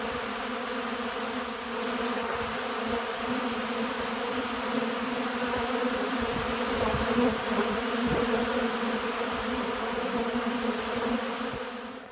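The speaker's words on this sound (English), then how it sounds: "The bees are up and they are in full flight." Dense, steady buzzing of many honey bees in flight around hives on a cold early spring day in Canada, a continuous drone holding evenly throughout with no talk.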